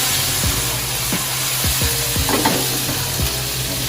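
Adobo meat sizzles loudly in a hot pan as it browns and caramelizes during home cooking. A steady frying hiss runs throughout, broken by the scrape of a utensil stirring every half second or so.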